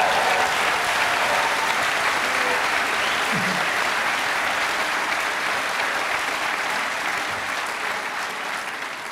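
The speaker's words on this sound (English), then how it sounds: "Give yourselves a big round of applause." Sustained applause from a large audience at a school commencement ceremony, a dense, steady wash of clapping that holds loud throughout and eases only slightly toward the end.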